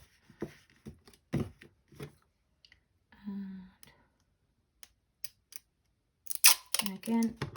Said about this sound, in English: just gonna cut here with my really bad scissors